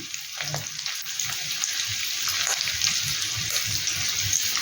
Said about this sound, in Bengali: এবার তেলের মধ্যে দেব রসুন, আদা আর কাঁচা লঙ্কা বাটার যেটা ছিল সেই পেস্টটা